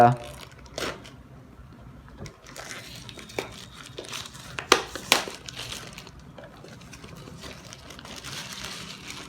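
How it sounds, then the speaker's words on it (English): Plastic wrap peels off a Google Home Mini box with close crinkling and crackling in uneven bursts, a few sharper tears among them, and a voice faintly in the background. "let's just peel off this plastic given over here"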